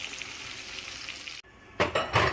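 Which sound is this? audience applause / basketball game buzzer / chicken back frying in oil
chicken back frying in oil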